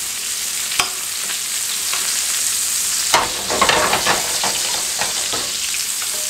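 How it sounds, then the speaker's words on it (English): Steaks sizzle and fry steadily in a hot pan while fat is basted over them, with scattered spoon scrapes and spitting pops over a constant hiss; no talking. "So again, we're just throwing that fat over our steaks"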